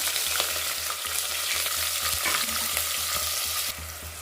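Sliced onions and green chillies fry in a pan with whole spices such as cinnamon, cloves and bay leaf, a close steady sizzle with light scraping stirs, until it drops slightly near the end, and no voices are heard.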